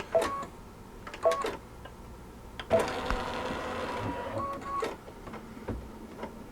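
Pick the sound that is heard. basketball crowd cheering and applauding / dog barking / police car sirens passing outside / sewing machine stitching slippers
sewing machine stitching slippers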